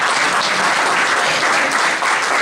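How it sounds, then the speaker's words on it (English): Audience applause at a marketing and social media talk, steady and loud, close-up dense clapping filling the whole short stretch without any voices. "Let's give him a big round of applause."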